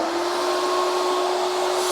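Junior Star Auto steam cleaner running steam and vacuum suction together inside a car interior, a steady loud roaring hiss with a constant whining motor tone and no talking.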